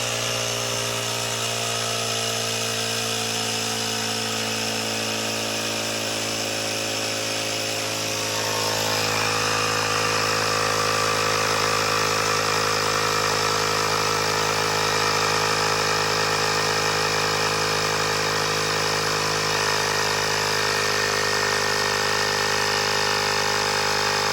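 An air pump runs steadily, inflating a wheelchair tire to about 100 PSI, with a continuous mechanical drone that grows louder and rougher partway through and carries on loud and alone.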